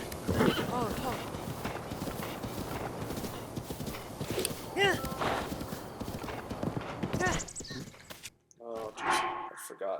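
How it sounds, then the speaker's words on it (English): A horse's hooves clip-clop at a steady gallop through Breath of the Wild, loud and close, with a whinny and some voice-like sounds over the game's ambience. "So, this is going to be our horse for the entire game."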